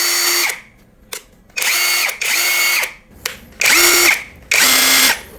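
An APR AP84+ cordless impact wrench whirs in several loud, close bursts of roughly a second each, spinning up and stopping with short pauses between runs, with no talking over it.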